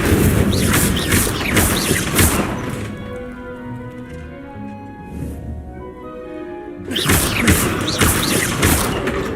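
Incendio fire spell cast in Hogwarts Legacy: a loud, dense crackling burst of flame and impact lasting a few seconds, a quieter tonal lull, then another heavy fiery burst.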